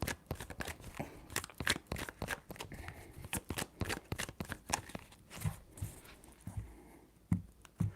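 Tarot cards are shuffled in a quick series of crisp riffling and slapping bursts, close and fairly soft, with short pauses between them.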